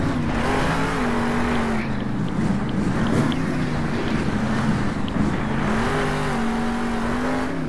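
A Monster Jam monster truck driven by Christian Anderson during a freestyle run, its engine throttling with a loud, sustained droning roar and shifting revs that rise and fall throughout.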